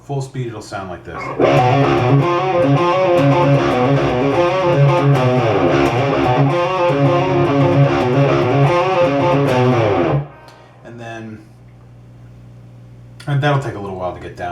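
A distorted electric guitar plays a riff at full speed, loud and dense for about nine seconds, then breaks off into a quieter stretch before a brief return at the end.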